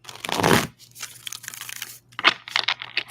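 A quick riffle of tarot cards being shuffled, followed by softer papery shuffling and a second crisp burst, close up with no talking.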